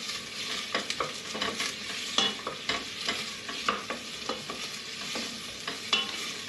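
Onions and leeks stir-frying in a pan, a steady soft sizzle broken by frequent scraping strokes of a spoon, close and alone with no talk.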